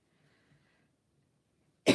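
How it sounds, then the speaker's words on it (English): A single sharp cough bursts out at the very end, loud and close, after nearly two seconds of near silence. "I do apologise with my cough"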